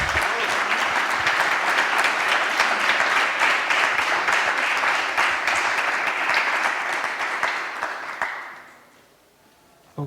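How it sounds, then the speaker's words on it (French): An audience at an expo panel on rethinking production sites and housing with living nature claps for three speakers, a loud sustained round of applause that thins out and fades to quiet near the end. "faire peut-être une petite salle d'applaudissements pour nos 3 intervenants"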